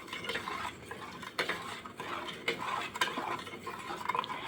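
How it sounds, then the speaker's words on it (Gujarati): Spices are stirred into buttermilk with a utensil, giving quiet, repeated scraping and clinking strokes against the vessel at an irregular rhythm, with no talking. "હવે આપણે બધી જ વસ્તુ મસાલામાં મિક્સ કરી લઈશું છાશ ભેગું"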